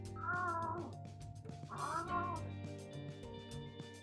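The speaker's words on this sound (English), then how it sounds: "That was an angry sounding cat" A cat gives two drawn-out, angry-sounding meows, close and loud, separated by a short pause, with a steady hum in the background.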